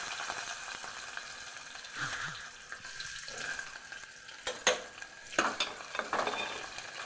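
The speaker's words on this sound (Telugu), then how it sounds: "మూకుడులో 2 పావుల ఆయిల్ పోసుకున్నానండి. ఆయిల్లో ఉల్లిగడ్డలు వేసుకున్నాను." Onions fry in oil in a kadai, giving a faint, soft sizzle broken by scattered scraping and stirring clatters.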